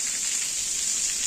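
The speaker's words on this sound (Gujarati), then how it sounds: "પવન સાથે વરસાદ" Rain falls steadily with wind on a farm, a dense, even hiss of drops close by with no pauses.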